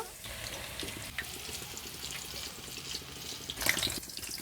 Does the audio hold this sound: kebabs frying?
yes